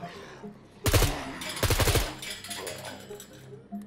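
Two loud bursts of automatic gunfire from a rifle in the SCUM 0.8 survival video game, each lasting about a third of a second, with the second burst slightly longer, over a quiet dark background.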